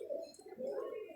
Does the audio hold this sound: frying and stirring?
no